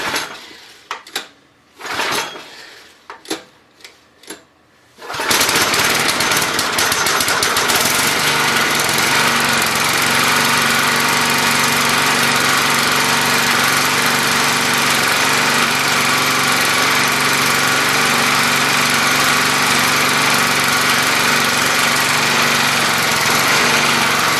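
A wood chipper engine gets a few sharp pull-start tugs and rattles, then catches and settles into a loud, steady, close-up engine drone that runs without a break for about twenty seconds.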